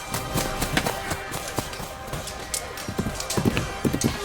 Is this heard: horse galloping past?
yes